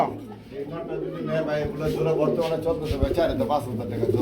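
Modena pigeons cooing at a pigeon market, soft throaty coos and bird calls mixed into a busy crowd with people talking over them throughout.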